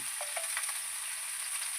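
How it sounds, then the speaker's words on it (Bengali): Cauliflower frying with garlic and green chilli, giving a bright steady sizzle with a few quick stirring scrapes near the start. "কপিগুলো এর মধ্যে দিয়ে দেবো কপিগুলো একটু নেড়ে নেবো"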